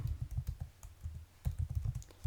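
Typing on a computer keyboard while composing newsletter email text, with quick irregular clusters of close key clicks and short pauses between bursts.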